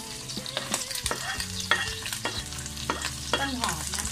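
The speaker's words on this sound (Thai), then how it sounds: "เดี๋ยวเราก็จะผัดกระเทียม" Garlic and onion are stir-fried in a wok with crab curry. A steady close sizzle runs throughout, broken by repeated scraping and clanking strokes of the spatula against the pan, and nobody speaks.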